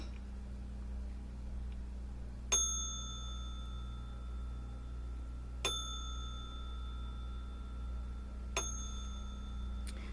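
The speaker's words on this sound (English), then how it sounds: "Let's tap in, y'all, while I tap this bell." A small bell is tapped three times, each strike ringing clear and sustained before fading, with several seconds of quiet room hum between strikes.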